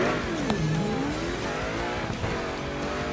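A race car engine in the video game Burnout Paradise revs loudly and continuously, with pitch sweeping up and down and a brief tire squeal, with no talking.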